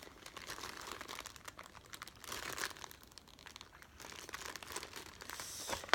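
Opening a SCUF Gaming controller package gives a busy run of crinkling and tearing of packaging, close and fairly quiet, with a few sharper crackles near the end.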